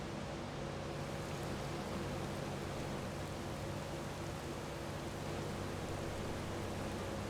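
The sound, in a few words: rain in video game Farming Simulator 25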